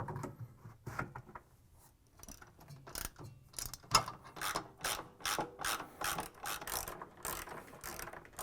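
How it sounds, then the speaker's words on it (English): Ratchet wrench tightening 13mm bolts that secure the bottom counterweight on a Whirlpool/KitchenAid/Maytag washer outer tub: rapid clicking pawl bursts in short repeated runs, close and moderately loud, with a quieter pause early on. "Now install the bottom counterweight and secure it with three 13mm bolts."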